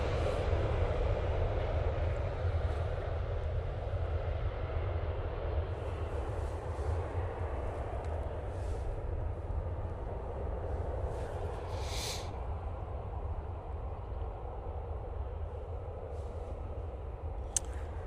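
A Ryanair airliner approaches to land at Manchester Airport, its steady, continuous engine roar spread evenly across the whole stretch at moderate distance, with faint higher whistles drifting in and out.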